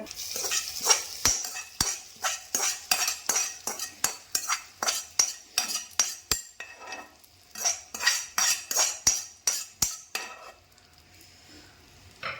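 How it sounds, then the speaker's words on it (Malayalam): A spoon stirs koottukari, a Kerala vegetable curry made for Onam, in a pot: a steady run of sharp scrapes and clinks against the metal, close and fairly loud, repeating about twice a second with a faint sizzle underneath and no talk. "നമുക്കിനി ഇത് ഇളക്കി കൂട്ടി യോജിപ്പിക്കാം"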